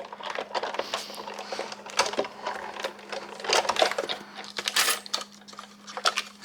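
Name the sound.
paper run through a die-cutting machine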